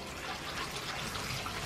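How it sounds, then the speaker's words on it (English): Water poured steadily into a small pond vessel holding a pump, a continuous close splashing pour with no talk. "let's put some water in so we can test the pump"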